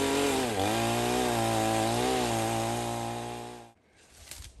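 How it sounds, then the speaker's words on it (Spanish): A neighbour's chainsaw runs loud and close, its engine pitch shifting as it cuts, then abruptly stops when the saw jams, leaving a short quiet with faint sounds after. "Se le trancó la motosierra."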